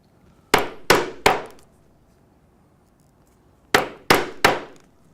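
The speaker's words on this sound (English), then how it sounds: "For the tongue that goes into the buckle, I will also use the 1/8 inch punch" A 1/8 inch leather punch struck with a hammer while making a leather watch band, two sets of three sharp metallic blows, close and clear in a quiet room.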